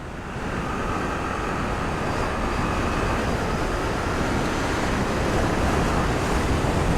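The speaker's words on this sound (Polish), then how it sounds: "Strasznie wieje dzisiaj." Constant loud wind rush buffets the microphone while riding a Suzuki GSX-8S motorcycle, a dense steady roar with no talking and no letup.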